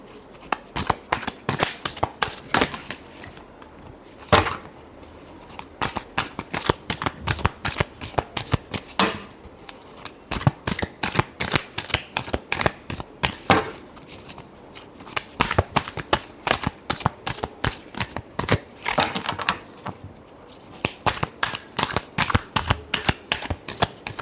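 A deck of cards shuffled over and over, close and crisp, with rapid riffling bursts separated by short pauses across the whole stretch, no talking.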